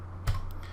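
Several quick keyboard keystrokes clustered together near a microphone, one louder tap followed by a few lighter clicks, alone with no talking.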